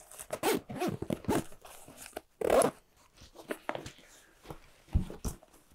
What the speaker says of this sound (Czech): Další komora batohu má zip, který zasahuje pod